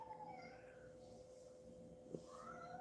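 A cat meows indoors, a faint drawn-out call rising over a low steady hum, alone with no talk.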